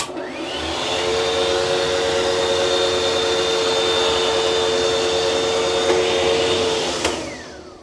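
An old hair dryer in a hotel bathroom blows with a steady, droning whine and rushing air, running continuously from start to finish before cutting off near the end.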